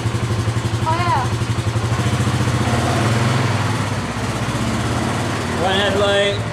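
A rebuilt 570 engine idles steadily and loudly up close, its rumbling pulse continuing throughout, with a couple of brief squeaky rising tones layered on top.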